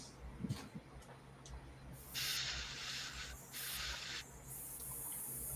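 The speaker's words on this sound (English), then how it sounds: "Get everything out of this airbrush." An airbrush being sprayed clear of paint, giving bright hissing blasts in a couple of sustained bursts with short gaps, close and fairly loud over a low background hum.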